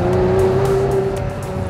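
A 1986 Ferrari Testarossa on the move, its engine holding a steady, sustained note with a faint rising pitch, loud and close throughout the short stretch with no talking.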